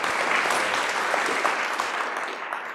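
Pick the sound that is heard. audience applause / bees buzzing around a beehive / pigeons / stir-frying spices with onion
audience applause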